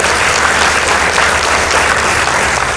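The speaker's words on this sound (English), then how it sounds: "Let's give them a round of applause." Steady, loud audience applause fills a school hall after judges announce scores at a competition between Dandora Girls High School and Starehe Boys Centre; dense clapping runs unbroken with no voices.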